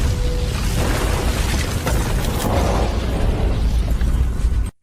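A bomb explosion in a film: a dense, loud, continuous blast roar that fills the whole moment for nearly five seconds and then cuts off abruptly.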